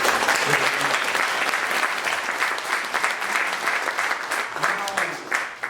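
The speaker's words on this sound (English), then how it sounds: "Please give them a round of applause." An audience at a poetry evening breaks into dense, sustained applause, many hands clapping close together for several seconds with no voices over it.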